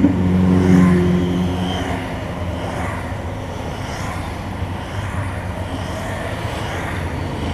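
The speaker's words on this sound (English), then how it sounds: "Blimey heck, there must be 300 bikes has just gone past here." Motorcycles stream past on a country road in the Derbyshire countryside, a steady, loud engine roar that swells at the start and then holds as a continuous rumble of many passing bikes.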